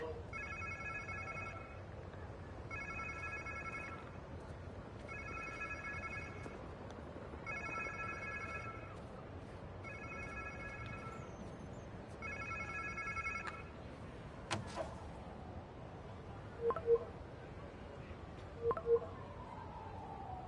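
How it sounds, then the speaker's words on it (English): A telephone rings in the Spider-Man 2 video game, six evenly spaced electronic trilling bursts at moderate volume, followed by a few faint clicks and taps. "Sounds like somebody's phone."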